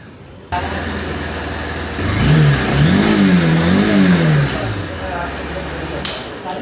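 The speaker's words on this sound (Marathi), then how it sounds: "तुम्हाला आता मी साऊंड ऐकवतो गाडीचा कसा आहे तो" A 2025 Honda SP 160 motorcycle engine idles steadily, then revs up in a few rising and falling surges before settling back to idle, close and loud inside a showroom.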